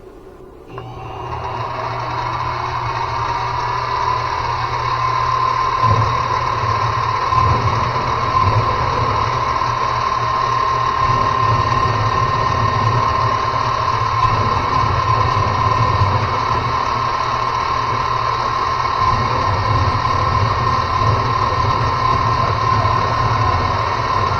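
A desaxed chainsaw engine runs at a constant high rev, with a loud, buzzing whine that holds for the whole stretch and no break or pause.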